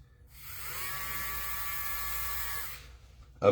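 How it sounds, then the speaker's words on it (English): Dremel spinning a tool that cuts HO slot car motor brushes to the commutator diameter, a faint steady high buzz rising, holding for a couple of seconds and winding down, followed by a small click. "So you chuck it up in a Dremel. And it cuts the brushes to the diameter of the"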